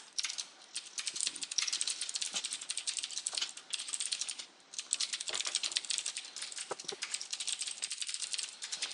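Quick, steady clatter of keys on a computer keyboard during a C# coding session, close and continuous, with brief pauses.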